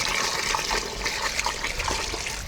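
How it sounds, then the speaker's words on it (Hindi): Water is poured into chicken in a cooking pot, a steady close trickling splash lasting a couple of seconds. "इसी चिकन में हम लोग थोड़ा सा पानी भी डालेंगे ताकि अच्छी तरह बॉईल हो सके।"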